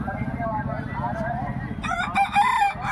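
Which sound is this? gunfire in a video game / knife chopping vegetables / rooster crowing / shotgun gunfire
rooster crowing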